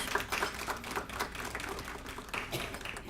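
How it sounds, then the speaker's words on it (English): Audience clapping at a youth leadership seminar, a dense burst of many hands applauding steadily for about three seconds, moderately loud with no voices over it. "Let's give her a round of applause"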